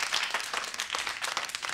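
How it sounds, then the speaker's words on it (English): Audience at a stand-up comedy show breaks into applause, a dense, steady wash of many hands clapping for the full stretch, with no speech over it. "Give him a big round of applause"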